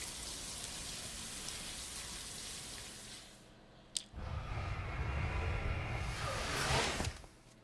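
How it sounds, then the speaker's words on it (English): In Death Stranding 2, running water washes blood and tar off a character as a steady splashing spray, pausing briefly with a click, then returning louder and fuller. "First we'll wash the blood off, I guess. The blood and the tar."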